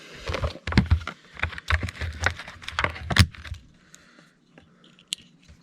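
Close scraping and crunching bursts of a rusty utility knife slicing through toy packaging, several quick strokes that trail off into quiet rustling.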